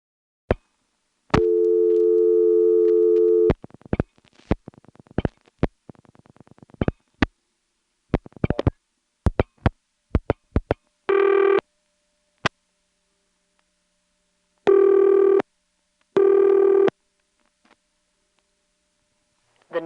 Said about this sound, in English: 359-2111 is a vacant number, which is on vacant number intercept with a very pleasant voice